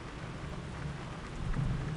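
A thunderstorm with steady heavy rain pattering on surfaces and a low rumble of thunder swelling toward the end, loud and close, with no talking.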